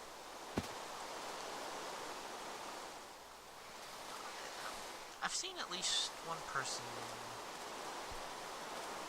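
Rain falling in modded Minecraft, a soft steady hiss that runs under someone talking, with a few brief game sounds near the end.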